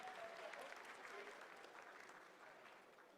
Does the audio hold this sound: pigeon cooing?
no